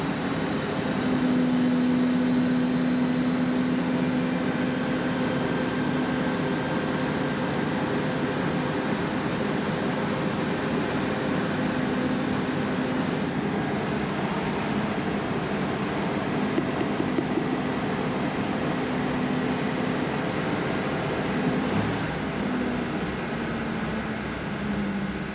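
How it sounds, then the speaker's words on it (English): Steady, loud mechanical drone with a sustained whine from the fuel pump of a 36-year-old Toyota Land Cruiser 60 Series, mixed with engine hum and running continuously throughout. "that fuel pump's making a lot of noise"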